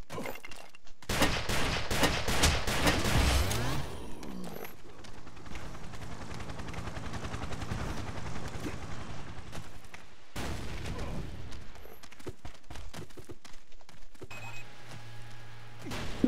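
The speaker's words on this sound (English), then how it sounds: "Some guy's turret was just looking at me and shooting." Turret gunfire in the game Ace of Spades: dense, sustained bursts of shots and impacts running almost the whole time, loud and close, with a brief pause near the middle and a quieter hum at the end.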